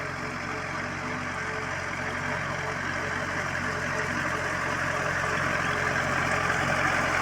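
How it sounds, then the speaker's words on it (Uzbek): A tractor pulling a mower through an alfalfa field. Its engine drones steadily and fairly close, a constant mechanical hum that holds through the whole stretch. "Mana traktorimizni o'rib kelishlari."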